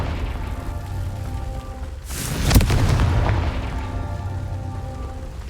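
A Confringo spell blast in Hogwarts Legacy erupts midway as a sharp, loud boom with a crackling rumble that lingers and fades, set against a soft ambient game background.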